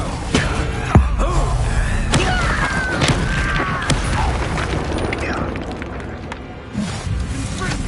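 Confringo explosive spell blasts from Hogwarts Legacy, several heavy booms and thuds at irregular intervals amid busy combat noise, with voices heard alongside.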